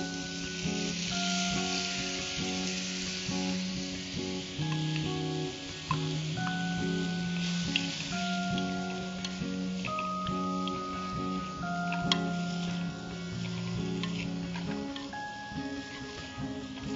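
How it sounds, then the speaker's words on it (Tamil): Chopped vegetables and tomato sautéing in oil in a pan give off a continuous, close sizzle with occasional stirring, under steady background music. "கொஞ்சம் கூட எண்ணெய் விட்டு வதக்கிக்கலாம்."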